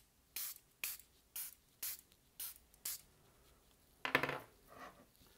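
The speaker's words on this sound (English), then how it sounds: "I'm gonna spray this until there's no dry spots left." Six short, crisp bursts from a pump spray bottle misting liquid onto a phone screen, evenly spaced, followed by a brief rustling handling noise.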